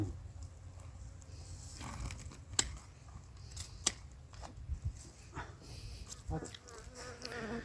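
A few sharp, isolated snips of pruning shears cutting branches in a vineyard or pear orchard, against a quiet outdoor background with buzzing insects and faint rustling.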